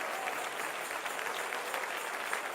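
A church congregation applauds at a Spanish-language Sunday school service, dense steady clapping that fills the whole stretch at moderate volume.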